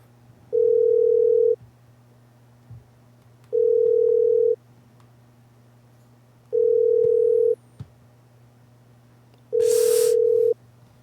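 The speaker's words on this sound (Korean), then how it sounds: "신호는 가는데 아직 안 받네요." A telephone ringback tone sounds while a call is placed and goes unanswered, four even one-second tones separated by roughly two-second gaps over a low steady hum.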